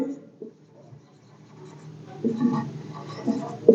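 Handwriting, with soft scratchy strokes starting and stopping in short bursts, quiet and close.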